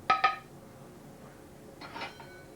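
Spoon serving sauce onto a dish: two quick, bright clinks of metal against the plate right at the start, then a quiet pause and a softer scrape and clink near the end.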